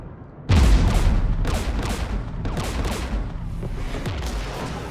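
Sustained bursts of gunfire from the video game Mass Effect 3, Legendary Edition, a loud combat clash beside a jamming tower with repeated sharp shots and booms that kick in abruptly and keep rattling throughout.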